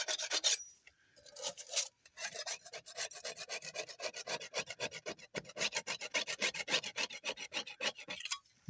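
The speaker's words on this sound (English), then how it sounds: "So I'm going to clean that up, get as much of that rust off as I can." Rust is scraped by hand off a scored axle seal surface on an Eaton 16244 axle, giving quiet, close, rhythmic rasping strokes in quick succession after a few separate scrapes at the start, with no talking.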